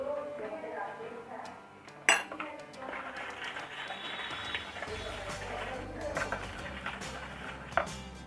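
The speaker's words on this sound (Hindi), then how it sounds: "अब हम थोड़ा थोड़ा करके इसमें ऐड कर देंगे और इसको अच्छे से मिक्स कर लेंगे।" Nankhatai cookie dough being mixed by hand in a bowl, with soft scraping and rubbing plus a couple of sharp clinks of utensil against the bowl, steady and close, with low background hum and no talk.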